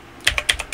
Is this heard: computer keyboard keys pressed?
yes